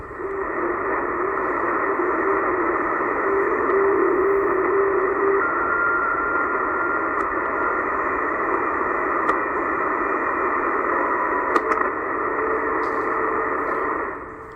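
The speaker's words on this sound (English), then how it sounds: "5755 sounds like a WeatherFax signal." A weatherfax signal on shortwave radio at 5755 kHz: a steady droning data tone buried in hiss and static, continuous and unbroken throughout.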